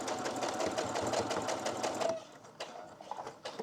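Sewing machine stitching fabric squares together for a patchwork quilt, a steady rapid mechanical whir for about two seconds, then stopping into quieter handling noises.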